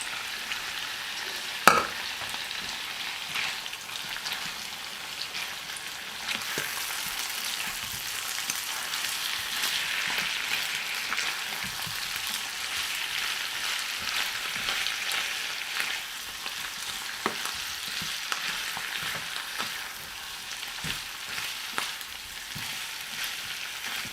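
Mussels fry with champignons and shrimp in a hot pan, a steady close sizzle with occasional stirring scrapes and pops running throughout.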